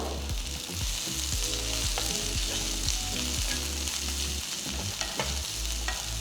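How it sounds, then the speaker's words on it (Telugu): Shallots, thinly sliced green chillies and chopped ginger sauté in hot oil with a steady loud sizzle, broken by repeated scraping stirs of a spoon against the pan, with no talking. "ఫస్ట్ దీన్ని సాటే చేసుకుందాం"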